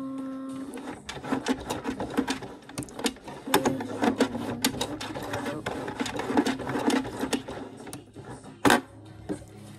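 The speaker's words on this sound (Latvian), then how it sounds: "Un tagad es sākšu stiept un šūt lēnām garāk." A sewing machine stitches fabric and elastic for panties, running in bursts of rapid mechanical chatter with short pauses, close and fairly loud.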